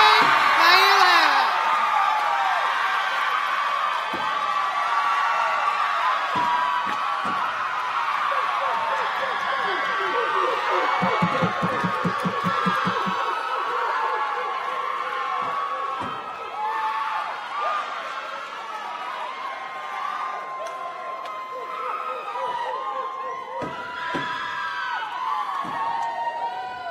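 An audience at a college commencement cheers and whoops for the graduates, a loud sustained roar of crowd voices close at hand that continues throughout with shouts rising above it.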